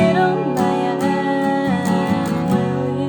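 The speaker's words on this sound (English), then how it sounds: "So I'll actually do a full strum on that chorus." Full strums on an acoustic guitar drive a pop song chorus, with steady close downstrokes under a singing voice carrying the melody.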